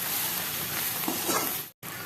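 An egg mixture with tomato and spices fries in a pan, giving a dense, steady sizzle and crackle close up that cuts out for a split second near the end before resuming.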